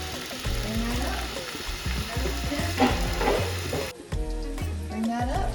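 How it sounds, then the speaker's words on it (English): Steady sizzling and crackling of chicken frying in a hot pan, close and continuous, with occasional stirring scrapes. "to see if I have that sizzle sound"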